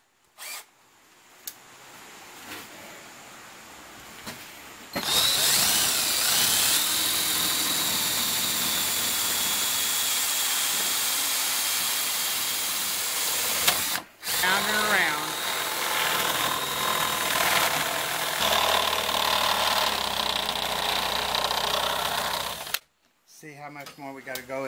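A power tool reams a hole in a DIY lawn striper for a riding mower, a loud whirring motor running for long stretches with a brief pause midway, preceded by quiet handling noises.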